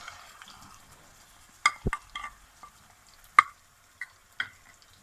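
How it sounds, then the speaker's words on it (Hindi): Marinated chicken fries with onions in a pan, heard as a faint sizzle under sparse spatula taps and scrapes against the metal, a few sharp clinks standing out in the quiet. "अब इसको 1 से 2 मिनट के लिए भूनेंगे, फ्राई करेंगे"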